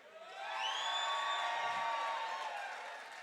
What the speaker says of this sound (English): This side of the tent, you guys are going to be cheering for Mike